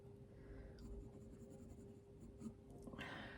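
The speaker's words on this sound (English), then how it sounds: "I'm going to take my pencil and I'm going to put in that line" A pencil draws a line across toned paper during a portrait sketch, giving a soft, close scratching stroke under a quiet room hiss that brightens and scrapes more firmly toward the end.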